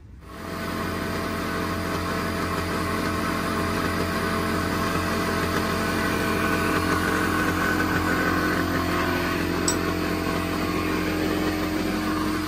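A turbocharged car engine with exhaust and boost leaks, including a leaking V-band clamp, idles steadily and loudly throughout, with a constant rumble and faint hissing puffs, no talking.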